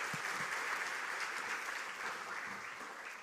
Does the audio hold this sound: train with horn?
no